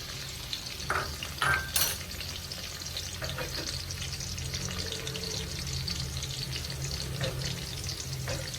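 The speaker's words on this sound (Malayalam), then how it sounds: "ഇഞ്ചി വെളുത്തുള്ളി ചെറുതായിട്ട് അരിഞ്ഞു വെച്ചതാണ്, അതിട്ട് കൊടുക്കാം" Chopped ginger and garlic fry in hot oil for Kerala beef varattiyathu, giving a steady close sizzle with a few brief louder spatters and stirring scrapes near the start.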